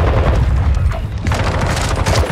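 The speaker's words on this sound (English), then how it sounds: "Tossing grenade!" A grenade explosion in Call of Duty Modern Warfare II erupts as a sustained, loud boom amid close gunfire, with dense crackling blasts filling the whole moment.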